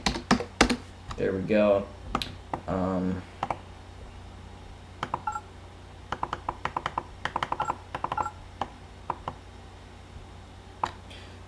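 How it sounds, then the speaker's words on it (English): Keys on a Kingston computer keyboard clack in scattered, irregular bursts of close, crisp clicks, with a person briefly talking near the start before the typing carries on alone. "I use this keyboard. This is a Kenningston keyboard."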